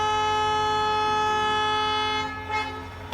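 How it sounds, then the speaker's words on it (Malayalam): A train leaves a station, sounding a long sustained horn toot that holds for several seconds before breaking off, followed by brief rattling bursts of movement. "ഗായ്സ് ട്രെയിന് പോവാണ് ഗായ്സ്"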